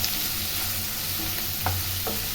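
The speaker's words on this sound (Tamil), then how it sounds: "வெங்காயம் வந்து ரொம்ப வதங்கணும்னு அவசியம் இல்லைங்க, கொஞ்சம் வதங்கினா போதும்" Onions sautéing in a pan with rock salt while making a drumstick-leaf dish, a steady low frying sizzle with occasional stirring scrapes of a spoon against the pan, alone with no talk.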